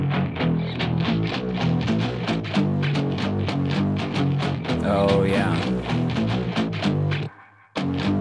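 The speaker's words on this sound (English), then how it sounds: "synthesized distorted basses and electric guitars are a match made in heaven, because they just work so well together, as you can hear" Synthesized distorted bass layered with electric guitars in a dense, loud, driving mix, with steady rhythmic attacks, a brief sweeping effect in the middle and an abrupt drop near the end; a voice speaks briefly over it.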